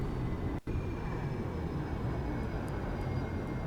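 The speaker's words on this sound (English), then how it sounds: "Full afterburner." An SR-71 jet engine at full afterburner in the X-Plane 11 flight simulator gives a steady, dense roar that fills the whole stretch, broken only by a brief dropout near the start.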